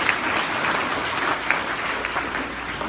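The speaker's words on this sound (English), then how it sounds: "Let's give him a little round of applause." A full audience breaks into a brief round of clapping at a prophecy talk, dense and even for about three seconds with a few louder individual claps standing out.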